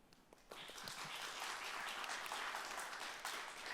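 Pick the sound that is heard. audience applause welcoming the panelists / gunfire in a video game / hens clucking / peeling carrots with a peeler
audience applause welcoming the panelists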